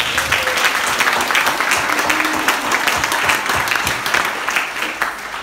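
A crowd claps steadily and loudly throughout for an athletics ceremony, a dense, continuous wash of applause without any pause.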